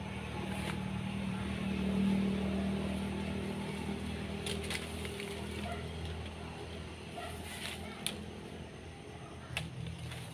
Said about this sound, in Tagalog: Medyo maingay lang po ang sasakyan dahil tayo ay nasa tabi ng National Road.